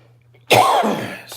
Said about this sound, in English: I have had a bit of a rancid cough.